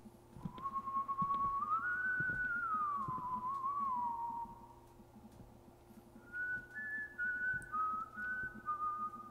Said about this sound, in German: klingt fast wie Akte X, was der da pfeift.